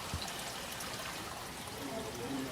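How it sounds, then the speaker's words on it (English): Water from an aquaponics system's backflow trickles and gurgles into a gravel bed, a soft continuous flow heard up close at low level, with faint background sounds but no clear talk. "the water just goes to a gravel bed where the worms use the solids"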